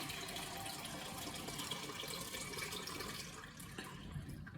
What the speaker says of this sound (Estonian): Mul on see vee mõõtmise kann. Vaata, kraanist tuleb vesi